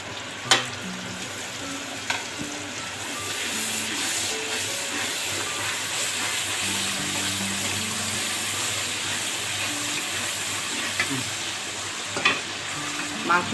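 Mixed spice masala with sour yogurt frying and being stirred in a pan for biryani, a loud continuous sizzle and hiss with repeated stirring scrapes and occasional sharp clanks of the utensil.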